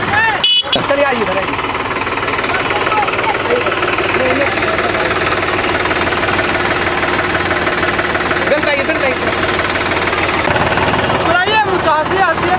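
Tractor engines idle together at an Independence Day tractor rally, a loud, continuous knocking diesel chug underneath a crowd's talk and someone speaking over a loudspeaker throughout.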